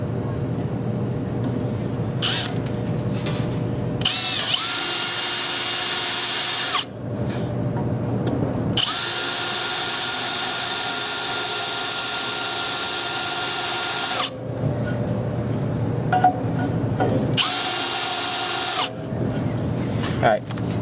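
A power drill running a small center drill whirs in several sustained bursts of varying length, making a starting point for a pulley puller, with brief pauses and shifts in pitch between runs, close and fairly loud.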